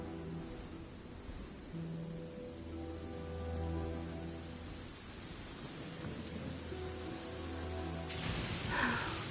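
Steady rainfall in the game Genshin Impact with deep rumbles of thunder, a constant wash of rain that swells near the end, while music or low tones sit underneath and no one speaks.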